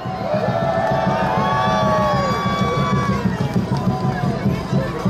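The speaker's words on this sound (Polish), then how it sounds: "Wielkie brawa, słuchajcie, dla was!" Crowd cheering and shouting right after a countdown at an outdoor Christmas tree lighting in Cieszyn, Poland, during a Saint Nicholas parade; a dense, steady roar of many voices with whistles and children's shouts, loud and continuous.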